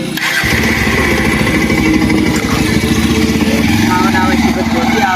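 A motorcycle engine runs steadily and loud throughout, with a low rumbling putter and a faint background voice.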